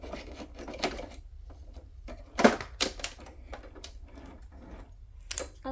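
A sewing machine stitches in short, uneven mechanical bursts with clicks and taps between them, close and fairly quiet against a low steady hum.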